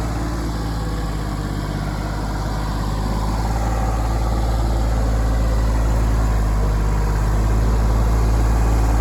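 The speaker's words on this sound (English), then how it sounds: "It is really amazing with a subcompact tractor how much work you can do." A subcompact tractor engine runs at a steady idle while moving and smoothing dirt, a continuous low droning hum that holds evenly throughout with no talking.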